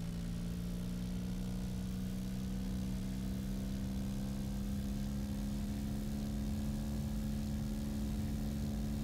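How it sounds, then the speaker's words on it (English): Steady engine roar of an airliner accelerating on the runway during a takeoff roll in X-Plane 10, a continuous loud droning hum with strong low tones that holds evenly throughout, with no voices. "Release the brakes, increase thrust."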